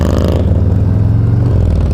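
An Indian Chieftain motorcycle engine runs loud and close with a steady, deep low rumble and a slight shift in tone partway through, with no voices over it.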